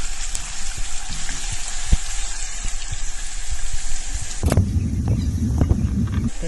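Chopped garlic sizzles in hot oil in a pot, the start of a tomato sauce for stuffed zucchini. A steady, close hiss swells louder and denser partway through, with no voices.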